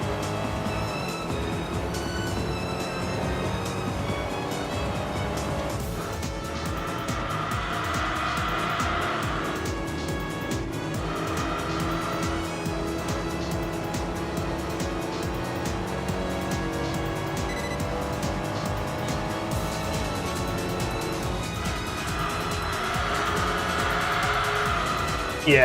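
Audi A8 racing in the Enthusia Professional Racing video game, a steady loud engine drone with shifting pitch and occasional tire noise running continuously throughout.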